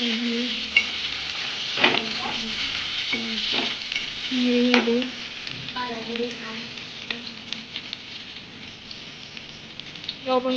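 Shrimp and spinach sizzle in hot oil in a pan while a utensil stirs them, giving a steady crackling fry broken by scraping clinks against the pan; a voice talks softly at times.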